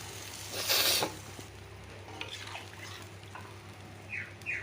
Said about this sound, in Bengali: সাঁকলানোটা হয়ে গেছে এখন আমি জল এড করে দেবো পাতলা করেই দেবো